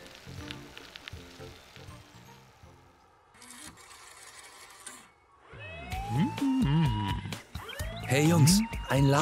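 A cartoon police patrol car siren from Autopolis wails in repeated rising and falling sweeps, growing loud in the second half after a stretch of talking voices.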